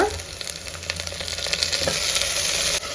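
Onions and curry leaves fry in a pan for a village-style dry fish curry, a loud, continuous close sizzle with light crackle and faint stirring throughout.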